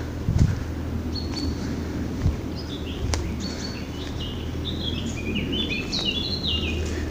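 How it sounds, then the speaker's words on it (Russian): Birds sing in a forest, scattered chirps and short high whistling phrases at moderate distance over soft wind and rustle, with a few faint thumps near the start. "Птички поют"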